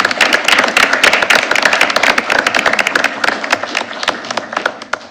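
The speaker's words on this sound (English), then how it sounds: "one more round of applause for all 4 staff members of the month" A round of applause at a school board meeting honouring staff members of the month: many hands clapping briskly and loudly from the start, the sharp claps tapering off toward the end.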